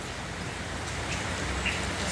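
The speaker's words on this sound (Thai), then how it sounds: "ฝนตกทั้งวันเลยค่ะ ตกตั้งแต่ตีสองครับ ยันตอนนี้เย็นแล้วก็ยังไม่หยุด" Steady rain pours down during a storm outside a room front, a dense even hiss of drops drumming on surfaces that continues unbroken, with no voices.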